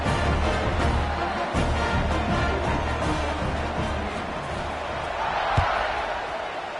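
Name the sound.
stadium crowd in a college football video game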